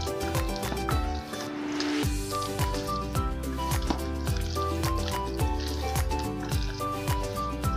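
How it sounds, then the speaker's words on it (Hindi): Potato pakora batter for a Navratri fast gets mixed by hand as water is added, giving rhythmic wet squishes and slaps over steady background music. "अभी भी ये थोड़ा कसा हुआ है तो थोड़ा पानी और मिला रही हूँ।"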